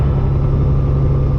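A custom Peterbilt truck with straight pipes and an 18-speed transmission, its engine rumbling loud, deep and steady from close by, with no break or change.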